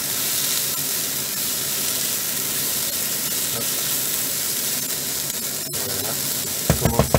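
Onion mixture for chicken with chorizo frying in a pan, a steady close sizzle and hiss throughout, with a few stirring knocks near the end.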